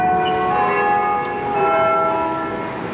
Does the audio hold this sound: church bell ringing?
yes